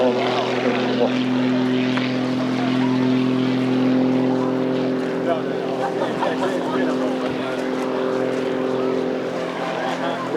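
A Pitts aerobatic aircraft flying at the Eastbourne Airshow gives a steady, loud propeller drone that holds throughout, with a commentator talking over it.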